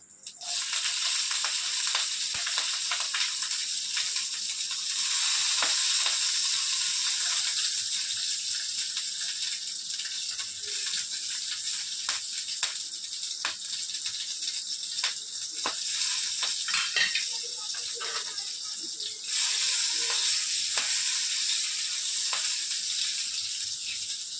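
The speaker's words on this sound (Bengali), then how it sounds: "তেল গরম হয়ে গেছে, এবার কালো জিরে ফোড়ন দিয়ে দেবো।" Black cumin seeds and green chillies sizzle loudly in hot oil in a pan, a dense, bright, continuous crackle close by, with scattered pops and occasional stirring clicks throughout.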